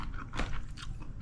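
Close, crisp crunching of refried crispy lechon skin being bitten and chewed, a few quick crackling bites in a short burst.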